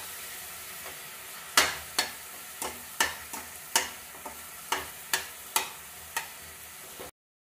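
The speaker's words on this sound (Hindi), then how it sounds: "यहाँ पर हरी मिर्ची को डाल देंगे और इसे अच्छे से मिलाएंगे।" Green chillies are stirred into a frying leftover-roti snack in a pan: about a dozen evenly spaced, close scraping strokes roughly every half-second over a soft, steady sizzle, with no talking.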